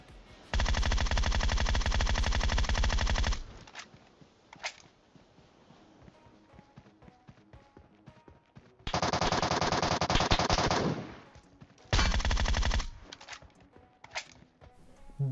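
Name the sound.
gunfire in PUBG Mobile video game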